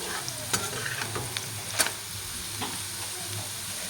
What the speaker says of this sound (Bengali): আর এদিকে দেখো আলু ভাজা বসিয়ে দিয়েছি বন্ধুরা